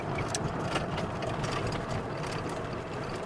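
A 1986 Ford Mustang GT engine runs while the car drives slowly around local streets, a low, rumbling drone heard from inside the car with faint clicks and rattles, at moderate, steady loudness and with no talking.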